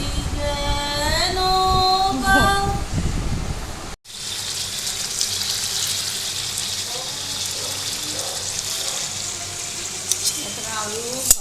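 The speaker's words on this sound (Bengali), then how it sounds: "এখানে আলু ভাজা হয়ে গেছে, আর এখানে মটন কষানো হচ্ছে।" Mutton sautéing in a pan sizzles steadily and fairly close, after an opening stretch where a voice sings over the cooking noise.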